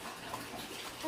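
Water pouring while fruit salad is being made, a soft, continuous gushing at low level with a slight swell at the end, heard alone.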